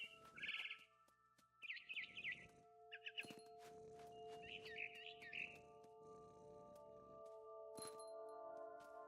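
Chirps of a barn swallow in the game What Remains of Edith Finch, short bright calls in bursts over a steady tonal hum with faint bumps, fairly quiet.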